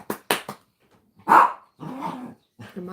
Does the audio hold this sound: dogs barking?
yes